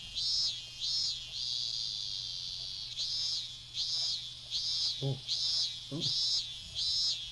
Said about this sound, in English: Oh, it's the cicadas.